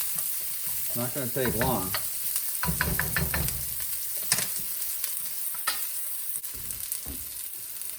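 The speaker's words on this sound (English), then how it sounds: "just stir that up nice. And that oil is nice and hot" Food fries in hot oil in a pan, a continuous hiss with scattered stirring scrapes and knocks, while a person talks briefly over it near the start.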